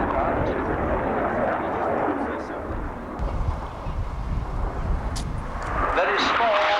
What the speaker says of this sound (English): It's the first of the new generation of very fast, very low-level strike aircraft.